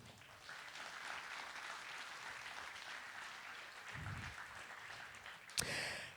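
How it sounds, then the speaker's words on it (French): An audience applauds steadily to welcome Dr. Luc Julia onto the stage at a conference on generative AI, a dense wash of clapping that runs for about six seconds, swelling slightly near the end. "sous vos applaudissements, s'il vous plaît"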